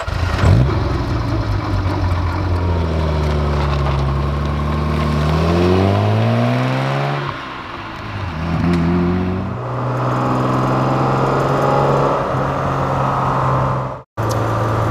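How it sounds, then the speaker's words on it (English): A 1965 Maserati Mistral's double overhead cam engine runs close and loud, rumbling at a rough idle, then rising through a couple of revs and settling back, with a sharp drop near the end. "at idle it kind of makes this grumbly, noisy idle, and then it smooths out once you get some RPMs up"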